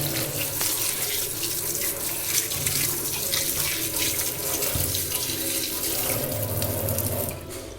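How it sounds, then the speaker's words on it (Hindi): A tap runs steadily while a cloth is rinsed under it after cleaning a gas stove, a continuous close splashing flow of water with no break. "अभी मैं इसको एक बार धो लेती हूँ कपड़े को।"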